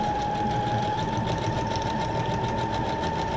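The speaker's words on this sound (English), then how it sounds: "Makes it a little bit easier to go around the corner with the sewing machine." A sewing machine stitching through paper for junk journal pockets, a steady close whirring drone with rapid even needle clatter throughout.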